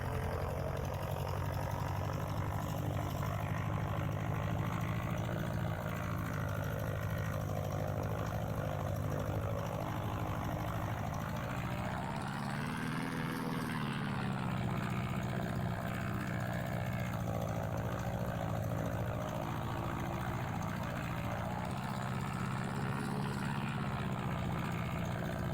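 A Christen Eagle II propeller engine drones steadily at high power while taxiing over grass in the DCS World flight sim, a continuous close hum with a brief pitch swell midway and no pauses.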